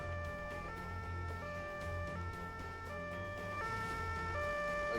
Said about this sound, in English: I feel like the siren should also cycle, as opposed to just being one siren looping.